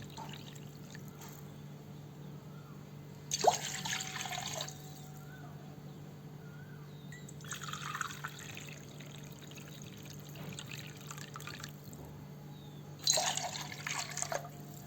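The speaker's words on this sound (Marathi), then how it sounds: "आधी दोन पेले पाणी ओतते" Water pours into a pot in three separate splashy bursts, with quiet gaps between them: two and a half measured glasses of water for making semolina sheera.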